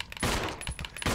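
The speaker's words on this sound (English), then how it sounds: "That's a shotgun." Shotgun blasts in Resident Evil 0, three or four heavy booming shots in quick succession, close and loud with no voices over them.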